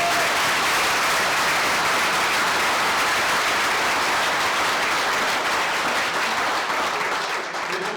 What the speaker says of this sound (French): applaudissons nos jeunes